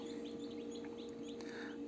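Newly hatched chicks, some still damp and others still breaking out of their shells, peep in soft, high, overlapping chirps over a steady low hum, faint and continuous.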